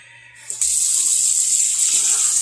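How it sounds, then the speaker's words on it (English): Hot tap water gushes into a bowl in a kitchen sink, starting abruptly after a moment of quiet and then running as a steady, loud, close hiss. "Now get this bowl under some hot running water right away before that sets up."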